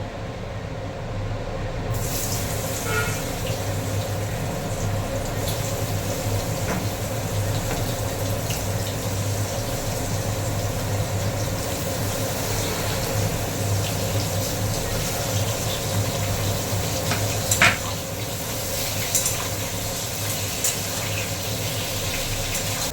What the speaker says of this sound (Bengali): আমি এইবার পটলটা এই গরম তেল হতে দিয়েছি এবার পটলটা ভাজতে দেবো